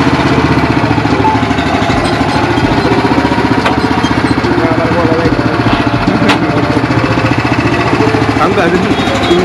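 A Swaraj Target 630 tractor runs with a rotavator in a field near Solapur, its engine chugging loud and close in a rapid, steady rhythm while people talk over it.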